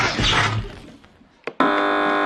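A quiz show buzzer on a panel comedy game show sounds once as a loud, sustained electronic tone with a steady harmonic drone, cutting in after a brief sharp blip and holding to the end.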